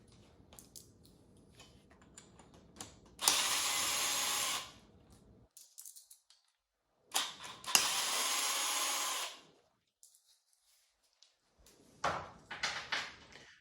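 A power drill backs out the 10mm bolts holding the stock headlight on a Suzuki DRZ400SM motorcycle, running in three loud, close whirring bursts of a couple of seconds each, separated by quiet gaps with faint handling clatter.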